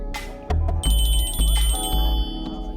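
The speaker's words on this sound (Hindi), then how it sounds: "बज रहा है आपका फोन।" A phone rings in a Hindi-language film scene: a bright, repeating electronic ringtone comes in after a moment and keeps going over a loud, booming music bed, close and clear.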